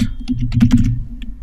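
A brief flurry of close, crisp keystrokes on a computer keyboard while coding AngularJS, a handful of rapid clicks followed by a lone tap, with no talking.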